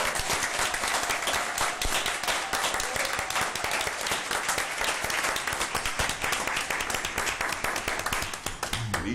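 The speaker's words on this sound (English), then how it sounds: "Give them a big round of applause." An audience at a school board meeting breaks into sustained, dense applause for several schools, a steady loud roar of many hands clapping without pause until it thins slightly at the very end.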